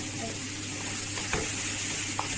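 Onions, green chilli, ginger and garlic sautéing in a pan for fish pollichathu, a steady close sizzle with a couple of brief stirring clicks.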